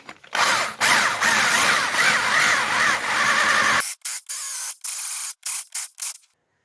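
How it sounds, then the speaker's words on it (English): An angle grinder or similar power tool chamfers and bevels metal pieces before welding during a Ford Escort MK1 restoration, a loud whining grind for several seconds followed by short repeated bursts that stop abruptly. "I'm just going to chamfer these a bit"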